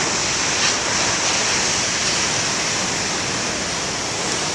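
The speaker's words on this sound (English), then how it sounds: "Always nice when I say, give me some big waves, you get some." Big ocean waves break on the shore in a steady, loud roar of surf that fills the whole clip, with no voices over it.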